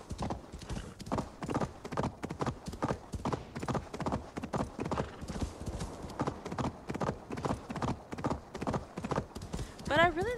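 A horse clip-clops at a steady trot while being ridden in Assassin's Creed Valhalla, with rhythmic hoofbeats throughout, close and clear, and a short whinny near the end.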